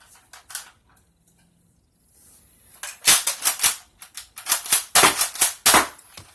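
A Dart Zone Renegade toy shotgun is broken open and loaded by hand: a few quiet plastic clicks first, then a dense run of sharp, loud snaps and clacks close to the mic.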